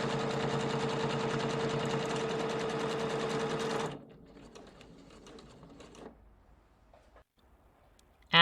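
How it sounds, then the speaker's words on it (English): A sewing machine stitches a buttonhole at a fast, even mechanical clatter for about four seconds. It then stops, leaving faint ticks and handling noises before a sharp sound at the very end. "turn the machine on and off, put it back on your buttonhole stitch, and do the next buttonhole"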